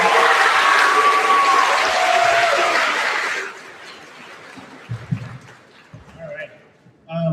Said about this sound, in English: Can we have a round of applause for Austin and Jason?